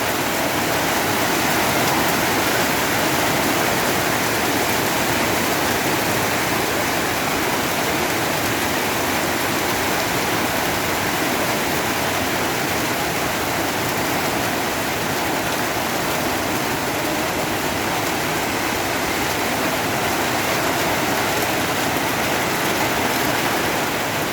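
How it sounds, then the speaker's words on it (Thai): Heavy rain falls in Thailand over a house construction site with a wet, muddy ground. The downpour is a constant, loud, broadband hiss with no break and no voices. "ฝนมา ก็เปียกแฉะหมดเลยนะคะพื้น"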